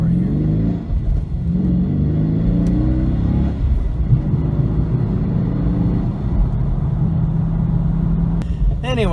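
A BMW passing nearby, its engine rumbling steadily and swelling as it goes by, loud and close, with a person talking over it.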